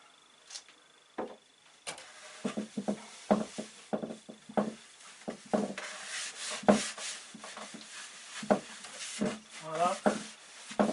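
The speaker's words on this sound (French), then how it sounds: "un chiffon avec de la mèche dedans. Et j'y vais généreusement." A cloth soaked with oil rubbed generously over Douglas fir wood: short, soft scrubbing strokes in an irregular rhythm, close and fairly quiet, with a brief voice near the end.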